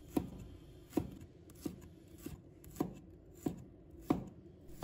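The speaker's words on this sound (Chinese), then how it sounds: "再准备几个红葱头，把它切成片。" A knife chops sliced shallots on a cutting board in steady, evenly spaced strokes, about seven sharp thuds close by with no talking.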